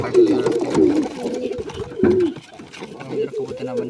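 Pigeons coo at a nest holding newly hatched chicks, loud close throaty calls repeating in bursts while a person talks over them.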